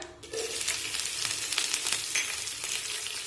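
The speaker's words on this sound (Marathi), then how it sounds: "परतून घेऊया मिरची ही चांगली परतून घ्यायची जेणेकरून आप्पे खाताना मिरचीचा कच्चेपणा जाणवला नाही पाहिजे" Finely chopped green chilies frying with browned dal in oil for rice-flour appe, a loud, dense sizzle with crackling bursts as the pan is stirred, heard close up without speech.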